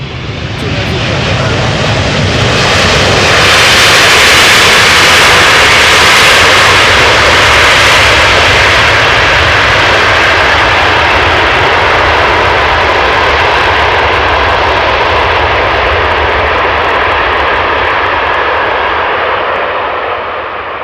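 Jet aircraft engines roar at Amsterdam Schiphol Airport. The sound is a loud, close, sustained roar that builds in the first few seconds, then holds steady for about twenty seconds before easing slightly at the end.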